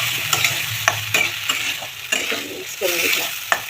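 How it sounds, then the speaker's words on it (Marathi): Chili and other ingredients for sabudana khichdi sizzle steadily in a pan, with repeated scraping stirs of a spoon clattering against the pan at an irregular pace. "छान असा फ्राय करून घ्यायचा आपल्याला"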